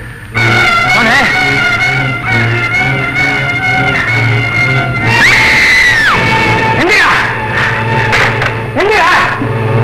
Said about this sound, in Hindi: क्या मैंने बहुत जोर से चिल्लाया था?